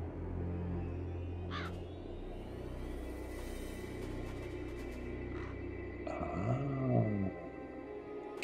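A raven caws at a raven statue in the Satinavs Ketten video game, heard as a few harsh calls near the end over a steady low game ambience with a brief sweeping tone earlier.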